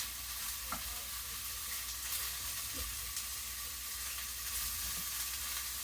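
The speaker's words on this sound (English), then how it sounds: "we're just cooking out some of the juices in the mushrooms so they don't make the pizza soggy" Mushrooms cooking down in a pan for a meat lovers pizza, a steady low sizzle and frying hiss with soft stirring scrapes throughout, no voices.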